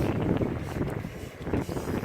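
Wind buffets a rooftop on a cold January day, producing a continuous, gusty roar close to the microphone with no pauses.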